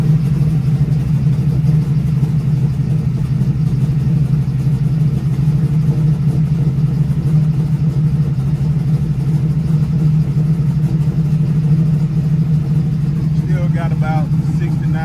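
A 1979 Chevrolet Malibu with a swapped LS engine runs steadily with a deep, loud, continuous rumble close by, holding a rough idle throughout with little clear revving.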